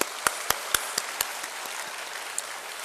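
A church congregation at a lay spiritual retreat claps in a brisk, even rhythm, sharp strikes about four per second that fade and thin out after a couple of seconds.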